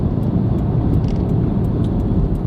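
Toyota 4Runner engine drones loud and steady from inside the cabin under hard acceleration, a low rumbling roar with faint ticks above it and no talking.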